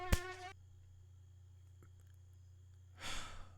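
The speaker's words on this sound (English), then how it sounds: "More of these damn mosquitoes." A thin, high mosquito whine hangs steadily through a quiet stretch between a short breathy sigh at the start and another breath near the end, staying faint and continuous throughout.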